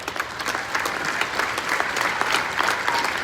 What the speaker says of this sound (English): everyone can give them a clap